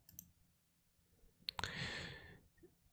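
Computer mouse clicks on a desktop, a few sharp clicks close together, followed by a brief soft hiss, quiet with no talking.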